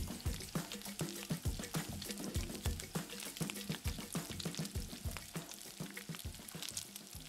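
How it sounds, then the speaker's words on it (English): Seared beef in a hot pan deglazed with cognac, giving a steady, close sizzle and crackle with rapid bubbling pops throughout, no voices. "There's nothing more to do but deglaze with a bit of cognac."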